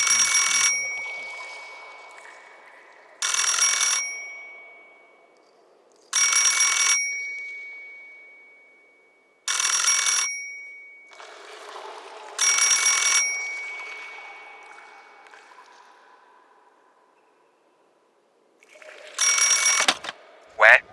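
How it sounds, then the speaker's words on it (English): An old-style telephone bell rings in a large hall, six loud bursts of about a second each with long echoing decays between them, the last burst cut short by a clack. "a phone suddenly rang from the center of the hall."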